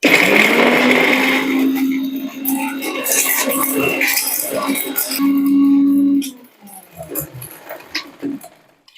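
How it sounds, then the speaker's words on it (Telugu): A mixer grinder whirs loudly as it grinds spices such as cinnamon and cloves into tooth powder, then cuts off after about six seconds, leaving brief clattering and handling sounds. "సో దీన్ని ఇప్పుడు మనం మిక్సీ వేసుకుందాము"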